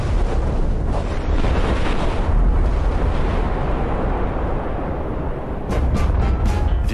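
A massive atomic bomb test explosion on Bikini Atoll roars continuously, a loud, dense rumble that fills the whole stretch without letup.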